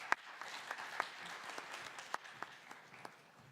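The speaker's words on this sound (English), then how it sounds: "Let's give her a big round of applause" A modest crowd at a conference session applauds steadily with scattered sharp claps, the clapping sounding somewhat distant and fairly quiet.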